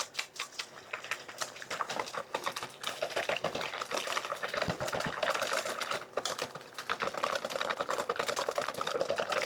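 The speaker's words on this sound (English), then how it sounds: "Let's go ahead and add the milk, egg, and vanilla. Mix that in really well." Milk, egg and vanilla mixed into a dessert batter in a bowl: a busy, continuous clatter of stirring and tapping, close up, with no talk.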